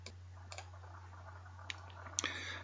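A handful of sharp computer mouse clicks, spaced irregularly over a steady low electrical hum, faint and close, with no speech.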